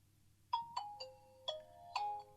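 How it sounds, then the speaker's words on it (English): A short, bright Nokia 110 4G startup melody of five quick chiming tones, clear and alone against a faint background hum. "We'll hear the traditional Nokia sound"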